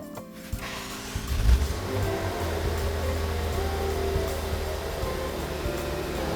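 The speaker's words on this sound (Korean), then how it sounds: "르반테 모데나의 엔진 소리 한번 들려드릴게요." A Maserati Levante Modena engine idles at close range, a low continuous rumble with a brief swell near the start, then settling into an even, loud hum.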